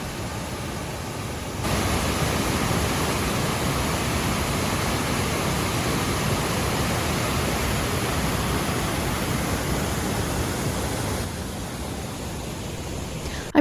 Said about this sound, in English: the not-too-tall waterfall, which is another very relaxing spot in the Botanic Garden with the sound of the